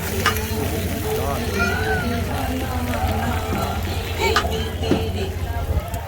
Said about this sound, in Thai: เขาก็จะเอาแป้งเนี่ยครับไปทอดลงไป